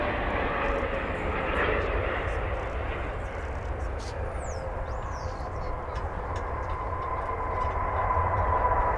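An airliner landing at DFW Airport after a long flight from Fiji, its jet engine roar broad and steady for several seconds, heard at a distance outdoors with no talk.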